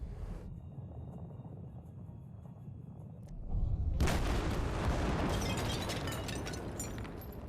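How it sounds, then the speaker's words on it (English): Explosions in the video game Apex Legends rumble low at first, then a heavy blast erupts at mid-clip into a loud sustained crackling roar of debris and fire that continues to the end. "A lot of explosions seem to be happening."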